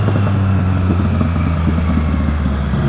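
Triumph Street Triple 660 S motorcycle engine running loud and close, a steady low rumble held under heavy throttle with no pauses or talk.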